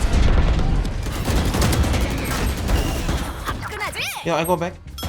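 A grenade goes off in a shooter video game, a dense burst of booming blasts and crashing debris followed by scattered gunfire and ringing tones, loud and close.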